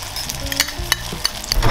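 Eggs hit a hot pan with frying bacon and tomato, giving a close, loud, crackling sizzle broken by sharp pops and spits that keeps going for the whole moment, with no voices.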